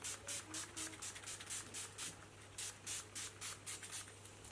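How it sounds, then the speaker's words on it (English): A series of short, close bursts of makeup setting spray from a pump bottle onto a face, about a dozen quick hisses in an uneven rhythm. "Just got to spray it with some setting spray"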